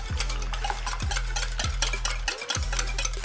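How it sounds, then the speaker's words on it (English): Eggs being whisked in a bowl for scrambled eggs, with quick rhythmic scraping strokes roughly every half second over a steady low hum, close up and without talk. "Keep whisking your eggs until they're very fluffy and thin and light"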